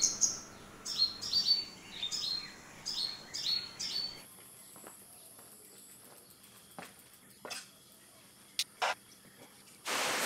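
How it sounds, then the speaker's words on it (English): A bird chirps in quick repeated bursts near its nest beside a road in Malaysia, the calls clustered at first, then giving way to quieter ambient noise with occasional faint clicks. "So this bird here is distracting me."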